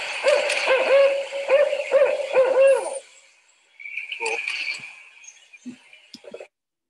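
Several rhythmic owl hoots in a short series, a rising-falling "who cooks for you" call pattern, fairly clear, followed by quieter scattered calls and chirps in the background.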